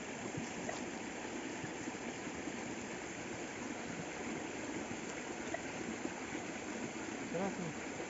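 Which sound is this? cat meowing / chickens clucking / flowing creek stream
flowing creek stream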